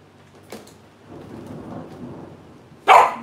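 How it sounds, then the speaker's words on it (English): Rain falls steadily with a low rumble of thunder rolling underneath, a sharp crack near the start and a loud, close thunderclap bursting at the end. "It's raining, thundering."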